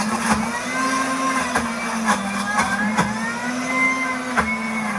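A food processor grinds peanuts into peanut butter with a steady, loud motor whine that wavers slightly in pitch, broken by rhythmic knocks and rattles from the bowl, with no talking.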